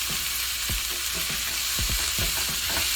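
Vegetables sizzle and fry in a pot while being stirred ahead of cabbage going in, a steady hiss broken by several scraping stir strokes, loud and close with no talking.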